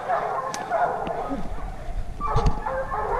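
Several hunting hounds bark and yip excitedly amid outdoor noise on a black bear hunt, with a voice talking over them and sharp barks rising in bursts.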